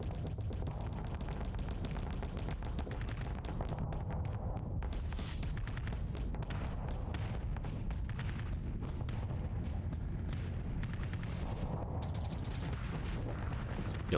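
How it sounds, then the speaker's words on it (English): Missiles slamming into a ship during a space battle in the video game Starsector, a dense, continuous barrage of loud booming impacts and crackling blasts with no talk. "All the missiles hit."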